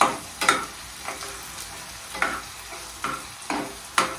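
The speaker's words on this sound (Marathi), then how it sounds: "मी पण एकदा हलवते" A spoon stirring egg masala gravy in a pan, a series of about eight distinct scraping strokes at a steady rhythm over a soft continuous sizzle, close and clear with no talking.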